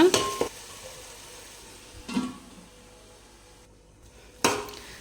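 Biryani masala being stirred in a pot over a low flame for mutton dum biryani, three brief scraping stirs over a soft, quiet background sizzle.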